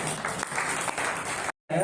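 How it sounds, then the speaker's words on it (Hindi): An audience at a temple foundation-day ceremony claps steadily in a broad, continuous wash of applause, briefly cut off near the end before resuming. "इनके लिए जोरदार ताली होनी चाहिए साहब"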